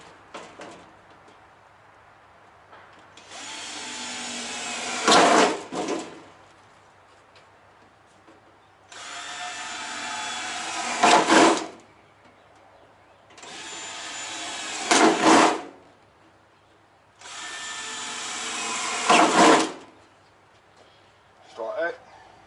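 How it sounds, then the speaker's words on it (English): A power drill bores holes into the body of a Toyota Coaster bus while a diesel heater vent is being fitted, four separate whining bursts of a few seconds each with short pauses between, close and loud. "now I'll drill the holes in here."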